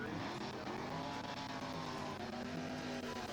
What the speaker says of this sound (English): Steve Gordon coming up now in his Ford powered rail